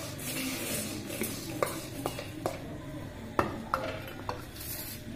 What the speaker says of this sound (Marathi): त्यामध्ये आपण आता ही एक कटोरा मुरमुरे टाकायची आहे, त्यामध्ये थोडा खारा चिवडा